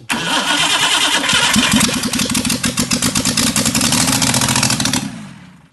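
A 1957 Borgward Isabella engine cranks and catches, then runs with a rapid, uneven chuffing exhaust pulse from an exhaust leak, loud and close, before cutting off.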